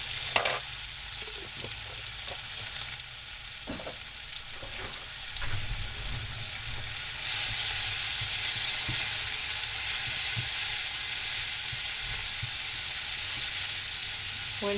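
Garlic and onion fry in oil with a constant close sizzle, punctuated by a few stirring scrapes, and the hiss swells louder partway through; no voices.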